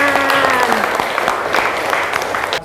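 A school class claps hands together in a classroom, close and fairly loud rhythmic clapping, with children's voices mixed in.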